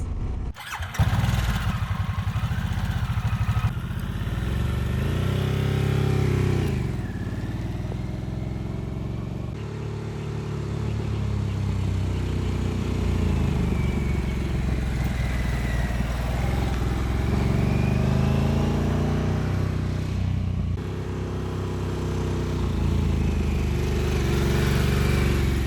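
A Harley-Davidson Sportster S motorcycle is ridden on the road, its engine a steady, loud rumble that rises and falls with throttle changes, alongside wind noise and no talking.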